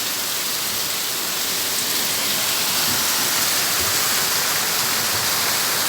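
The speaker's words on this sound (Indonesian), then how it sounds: "Ini di bawah hujan" Steady, dense rain pours down in Banda Aceh during flood coverage, a loud, even hiss that stays constant throughout with no talk.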